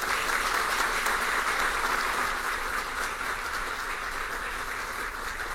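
An audience stands and applauds warmly at a formal ceremony honouring an administrative staff initiative, steady broadband clapping held at an even level throughout with no talk over it.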